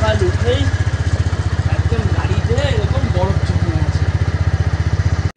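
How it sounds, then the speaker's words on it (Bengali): A Pulsar 220 motorcycle engine in freezing, snowy mountain cold thumps in a fast, even loud rhythm close by, with people talking over it. "এখন 220 ঠেলে স্টার্ট করার চেষ্টা করছে, ও স্টার্ট নিচ্ছে না"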